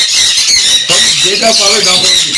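Loud, shrill conure parrot squawks repeat close by, harsh and piercing, with a voice talking underneath.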